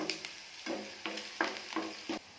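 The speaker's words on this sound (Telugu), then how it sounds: "ఆయిల్ వేడెక్కిన తర్వాత గరం మసాలా, అల్లం ముక్కలు, 2 చిన్న ఉల్లిపాయ ముక్కలు, పచ్చిమిర్చి 2" Garam masala, ginger pieces, small onion pieces and green chilies fry in hot oil and ghee, a soft sizzle broken by repeated spoon stirs against the pan, close and fairly quiet, no talk.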